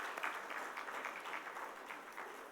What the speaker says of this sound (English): I think they deserve another big round of applause.